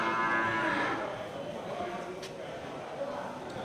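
Aceh cattle at a livestock market give a long, loud moo at the start, followed by a quieter bovine call and general market murmur.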